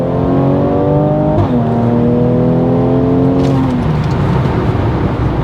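A Mercedes-Benz C43 AMG W205 with a 367 hp V6 revs loudly, its exhaust note climbing, dipping and holding before dropping away into a rumbling idle, close and alone.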